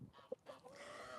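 Backyard chickens cluck softly and faintly, a few short calls against a quiet outdoor background.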